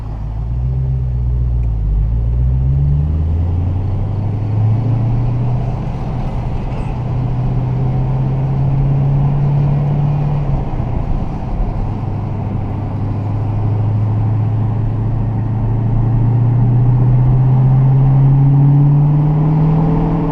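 Dodge Challenger Hellcat with a manual gearbox, its engine a deep, loud, steady rumble heard from inside the car, pitch rising and falling as it revs through close-ratio gear shifts with rev matching.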